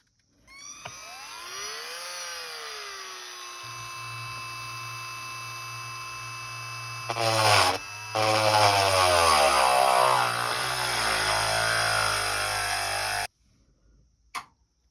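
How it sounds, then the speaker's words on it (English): A power drill whines steadily, shifting pitch as it grinds into fused glass at an angle, with a brief pause midway before it stops. "when you drill into glass, you don't drill directly down into it"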